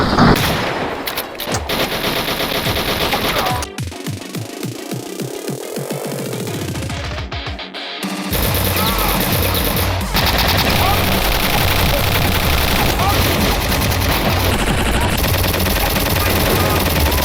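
Rapid bursts of gunfire from Return to Castle Wolfenstein, including machine-gun fire and shotgun blasts, rattle loudly and repeatedly over an energetic soundtrack, with a short quieter stretch in the middle.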